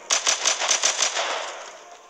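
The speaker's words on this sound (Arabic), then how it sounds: "هذا المسدس يطلق رصاصات يعني متعددة، ليس مثل المسدس الأول يطلق فقط رصاصة" Rapid burst of about seven pistol shots in a zombie shooter game, evenly spaced and loud, ending in a fading ringing tail with no talk.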